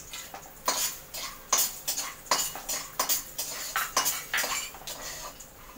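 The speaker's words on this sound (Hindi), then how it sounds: "मूंगफली के दाने इसमें डालकर रोस्ट कर देती हूँ।" Peanuts roasting in a pan with curry leaves for poha, stirred with a spoon so it scrapes and clinks against the metal again and again in an uneven rhythm, close up, with no talking.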